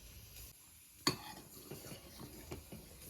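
A spoon stirs jaggery into ginger tea with quiet clinks against the vessel. One sharp tap stands out early, then soft scraping and light knocks follow over a faint background hiss.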